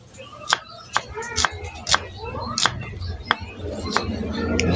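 Sharp knife chops on onion against a cutting board, about ten distinct close strikes at an irregular rhythm, with faint background noise and no talking over the cuts.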